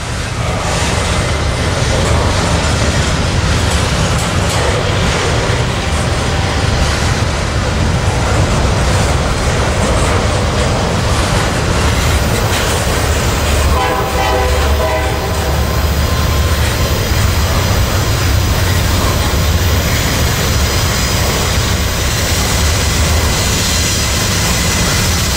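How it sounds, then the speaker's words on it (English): Norfolk Southern freight trains pass close and loud with a continuous heavy rumble and roar of rolling cars. A long horn-like tone sounds partway through. "NS-230 sneaks up about to enter Inman as 238 crosses the CSX onto the Greenville line."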